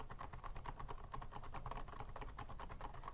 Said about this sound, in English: I can start typing again